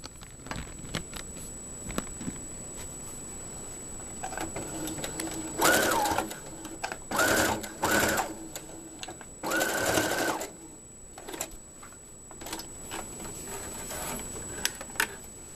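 Sewing machine stitching a thick gown, several loud bursts of rapid whirring stitches separated by pauses, with a faint steady tone and light handling noises between.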